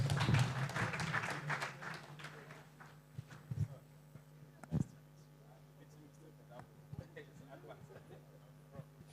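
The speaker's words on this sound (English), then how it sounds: "another round of applause for my panelists" Applause from a panel-session audience at a Nigerian tax reform forum, dense for the first two seconds before thinning into scattered claps, knocks and a steady room hum.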